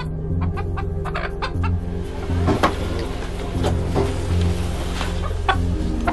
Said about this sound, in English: If the chicken stays on her head and doesn't hop off, it means the force field is intact and Jenna will be safe.